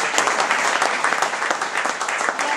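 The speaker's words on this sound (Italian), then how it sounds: "Mandiamogli anche un applauso di saluto e di ringraziamento per il lavoro." An audience at a political gathering breaks into applause, dense, close clapping that stays loud and steady throughout with a little voice mixed in.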